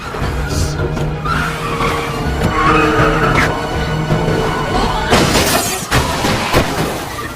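In an action film scene from a Korean movie, a car skids with squealing tires and slams into a mafia boss's car, marked by loud crunching and shattering impacts over continuous engine and road noise.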